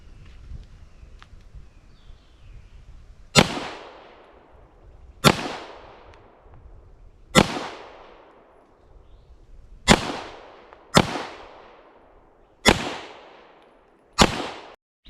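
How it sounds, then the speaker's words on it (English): Seven sharp, loud pistol shots from a Walther P38 fired at an outdoor range, spaced a second or two apart, each with a decaying echo, no talking between them. "let's give it a try. Walther P-38. Press check. Some fire in position."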